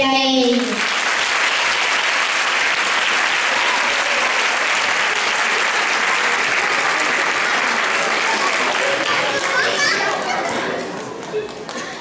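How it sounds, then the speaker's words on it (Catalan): A large audience gives loud, sustained applause at a school Christmas concert, dense and steady for about ten seconds before thinning out at the end, with children's voices mixed into the crowd. "Així que un fort aplaudiment per a ell!"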